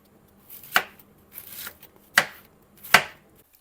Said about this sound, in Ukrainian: Нарізаю капусту завжди ось цією стороною. Ось також такими смужками буду нарізати.